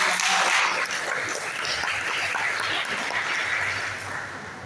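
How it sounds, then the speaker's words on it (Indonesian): Audience applause fills a seminar hall at a university entrepreneurship event, a dense steady wash of many hands clapping that holds throughout and fades slightly at the end. "mungkin tepuk tangan lagi untuk teman-teman"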